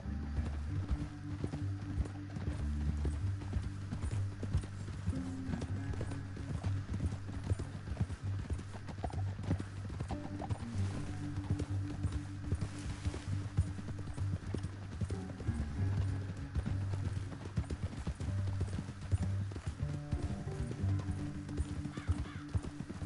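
Horses' hooves clip-clopping steadily on the ground with an occasional neigh or whinny, a continuous rhythmic trot that stays fairly close throughout with no talk over it.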